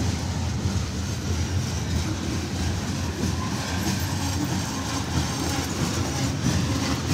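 Canadian National freight train 2502 rolling through Effingham, Illinois with its brakes applied, a loud, steady, close rumble of wheels and railcars with continuous clatter and no talking.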